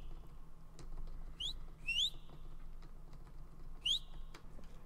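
A whistle in the Roblox horror game Apeirophobia sounds as a few short, sharp rising chirps spaced apart, faint over a low humming background with no talking.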